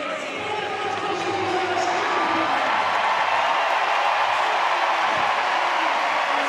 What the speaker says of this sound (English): The noise in the stadium, the passion from this home crowd.